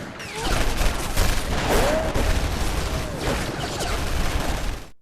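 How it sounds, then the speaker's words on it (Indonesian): A brutal film shootout in which a masked man is fired on by a group of gunmen, with dense volleys of gunfire and booms crowding each other throughout, loud and continuous, over a layered soundtrack with faint voices. "V ditembak dengan sangat brutal"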